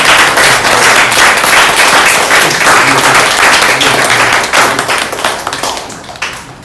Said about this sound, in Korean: 우리 그렇게 가르쳐 주신 주님께 우리 영광의 박수 한번